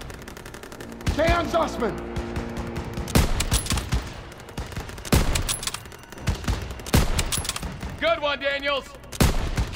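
Call of Duty gunfire crackles in sharp bursts of rifle and machine-gun shots, loud and close, spaced across the moment with a burst of automatic fire near the end, while soldiers speak between the volleys.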